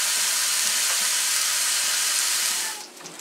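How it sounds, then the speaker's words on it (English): Pork browns in a pot for chili, a loud, steady sizzle and hiss close up that fades sharply near the end, with no talking. "we get the pork all browned off"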